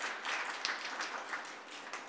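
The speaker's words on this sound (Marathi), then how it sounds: "आपण सगळ्यांनी टाळ्या वाजवून त्यांचं स्वागत करा" Audience applause at a Marathi birth-anniversary ceremony in Akola, a steady wash of many hands clapping together for about two seconds, fairly quiet and without voices over it.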